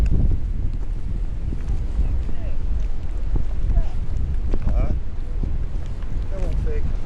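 Gusty wind buffets the microphone on a Cornish beach at Bude, a steady low roar lasting several seconds with faint scattered sounds of people and a dog nearby.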